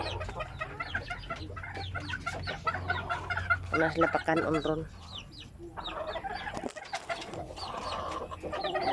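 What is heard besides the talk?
chickens clucking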